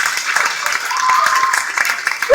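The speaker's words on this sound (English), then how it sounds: "I think we need to do a round of applause for that." A crowd gives a brief round of applause after an announcement of a donation, with a dense wash of clapping and a voice cheering over it near the end.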